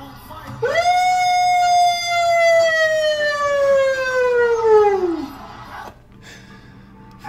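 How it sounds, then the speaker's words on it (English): A single siren wail rises sharply then holds a long steady tone before sliding down and fading, loud and close, with no talking. "World's best ambulance sound part 5."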